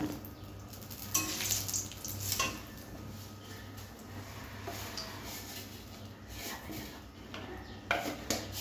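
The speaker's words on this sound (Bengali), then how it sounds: "এবার ফোড়ন দিয়ে নিচ্ছি। কড়াইতে তেল দিয়ে তেজপাতা" Bay leaf tempering in hot oil in a kadai gives a steady, soft sizzle, with occasional clinks of a utensil against the pan and brief louder crackles.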